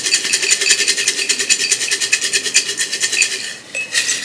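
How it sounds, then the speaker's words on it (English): Paper slips rattling and rustling as a hand rummages through a jar of book-title slips, a rapid scratchy shuffling that fades briefly near the end. "Out of my trusty little TBR jar that I love dearly"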